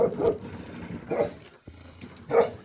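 An older dog barks in a mountain village in Ha Giang, Vietnam, giving three spaced barks at moderate distance with quiet pauses between them.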